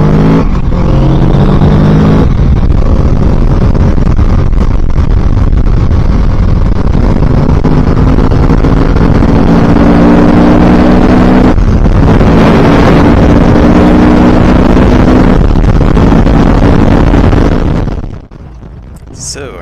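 A 2022 Kawasaki Z650RS motorcycle at highway speed, its engine droning in steady harmonics under heavy wind roar from riding without a windscreen, then shifting pitch with gear changes before fading at the end.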